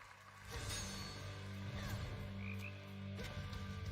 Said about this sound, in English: Frog.